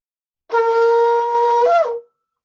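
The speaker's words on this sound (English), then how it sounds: "The first is a long sound, a long note called a tekiah." A single long, sustained shofar blast, the tekiah, steady and loud, ending with a slight upward bend before cutting off.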